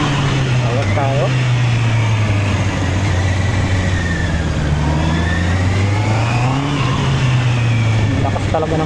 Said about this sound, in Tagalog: Lakas talaga ng kanyang arangkada. Hinihila tayo eh.